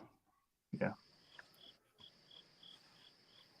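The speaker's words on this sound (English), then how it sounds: "I think I hear crickets at your house." Crickets chirp outside open windows of a house on a summer night. The chirps are faint and steady with a high, repeating pulse running through the background after a short burst of sound.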